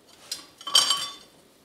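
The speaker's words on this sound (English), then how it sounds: "Grab my whisk." A metal whisk clinks and scrapes briskly in a pot as red wine beef stew gravy thickened with cornstarch is stirred, a short close burst of rattling strokes with no talk.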